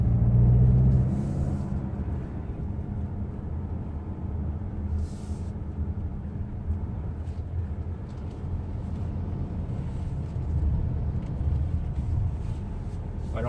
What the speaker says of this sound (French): le moteur n'est pas forcément le plus discret de la catégorie